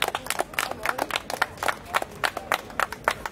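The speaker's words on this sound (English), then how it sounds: "Clap for yourselves, at least a little bit." A crowd at an outdoor speakers' corner event claps for itself, scattered and fairly sparse, distinct individual claps in a loose irregular rhythm at moderate distance, with no voices over it.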